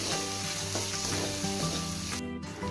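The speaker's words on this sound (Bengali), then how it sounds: "মশলার সাথে চালটা ভালো করে ভেজে নেব" Washed rice sizzles in a pan with cooked-down spices for a vegetarian vegetable dish, a steady close crackle with light stirring scrapes and a brief dip near the end.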